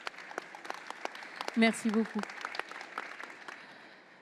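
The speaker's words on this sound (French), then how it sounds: "Vous pouvez l'applaudir." Conference audience at a French sustainable-industry forum applauding with scattered, fairly faint claps throughout, while someone briefly speaks over the start before the clapping tapers off.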